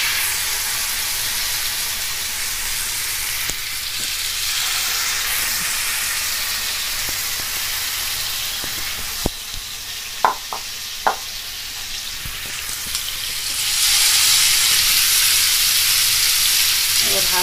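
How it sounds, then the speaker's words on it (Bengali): Chicken pieces for tandoori chicken frying in hot oil on high flame, a loud steady sizzle with a few brief clinks of utensils, swelling louder toward the end. "তেলটা ভালো করে গরম হয়ে গেছে। এখন আমি চিকেনগুলো দিয়ে দিচ্ছি।"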